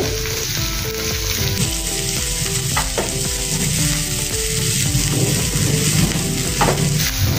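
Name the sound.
stirring moong dal mixture with green chili and ginger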